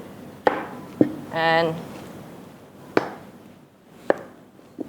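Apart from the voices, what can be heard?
knife chopping an onion on a cutting board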